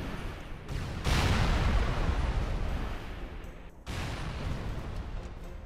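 Turret fire in a Halo 3 mod set on the Battlefront 2 Hoth map: heavy, rumbling low booms and blasts, sustained and moderately loud with brief gaps, no voices.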